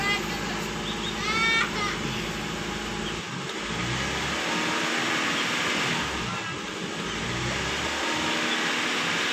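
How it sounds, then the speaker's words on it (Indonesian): A Honda car with a P1659 ECTS control relay fault held at full throttle while the engine fails to pick up revs, giving a loud, steady, flat engine drone, with children faintly audible in the background. "Jadi untuk bagian gasnya kita tekan full tapi RPM-nya tidak mau naik."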